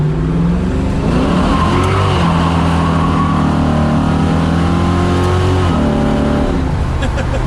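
A classic car engine revs hard and loud at close range, its pitch rising and falling as the tires spin in a burnout, continuing for several seconds.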